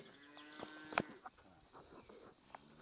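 Cattle on a ranch moo faintly in the distance, with scattered low calls and one sharper sound standing out among quiet farm noise.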